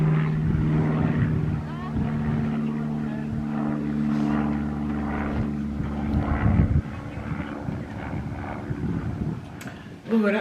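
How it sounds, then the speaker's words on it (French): A small propeller airplane flying over a garden, its steady droning engine hum audible over wind noise and rustling, fading toward the end. "Un petit avion."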